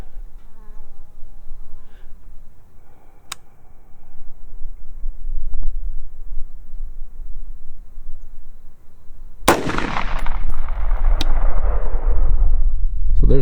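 A single AR rifle shot fired while zeroing a Vortex Sparc II red dot, with a sharp, loud crack midway through followed by a ringing outdoor decay over steady background noise.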